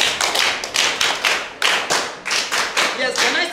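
A class of students claps in rhythmic bursts, roughly seven or eight distinct group claps in quick succession, loud and close-up, with a voice briefly audible near the end.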